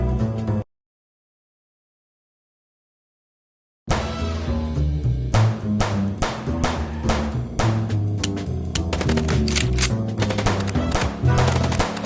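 Sustained automatic gunfire and rapid shot bursts in the video game Chicken Police, loud and dense over a low game soundtrack, starting after a short opening sound and a stretch of silence.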